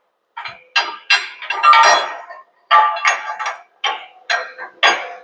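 Steel round stock sliding and clinking through the loader bushings of a John Deere front loader, a series of short metallic knocks and scrapes in uneven bursts, close and fairly loud with brief gaps between.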